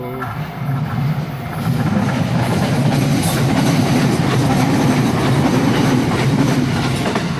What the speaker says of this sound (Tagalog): Bullet train.